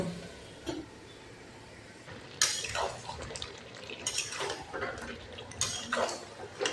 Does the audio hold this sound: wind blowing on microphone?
no